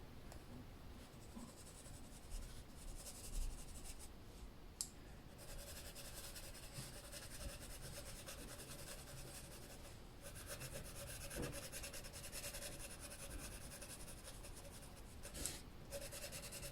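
Colored pencil strokes over acrylic paint on paper make a faint, continuous scratchy rubbing, with occasional light taps and brief pauses, close and quiet.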